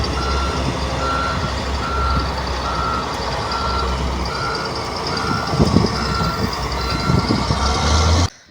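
Loud construction machinery grinds on a back street being levelled while a truck's reversing alarm beeps in a steady repeating pattern, with engine rumble underneath throughout.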